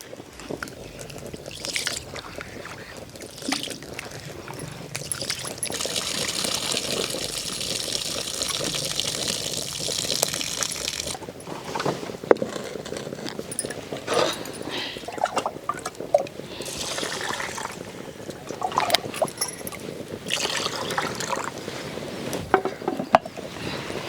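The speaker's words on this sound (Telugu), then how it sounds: "బియ్యాన్ని ఒకటికి రెండు సార్లు శుభ్రంగా కడుక్కోవాలి" Rice being washed by hand in a vessel of water, a continuous close sloshing and swishing with occasional small splashes and rattles, steady and moderately quiet throughout.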